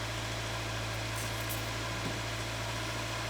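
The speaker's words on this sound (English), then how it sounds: "Okay, engine on." An SJ-generation Subaru Forester engine idles steadily, a low constant hum with a faint mechanical whir, heard close and alone without talk.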